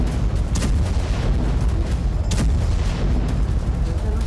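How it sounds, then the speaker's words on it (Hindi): Hamas rockets launched and intercepted over Haifa, Israel, come through as repeated distant booms and sharp blasts. A few louder cracks sit over a continuous rumbling background. "हाइफा में भी हमास ने कई रॉकेट दागे। इजराइल ने 2 रॉकेट को इंटरसेप्ट कर लिया है।"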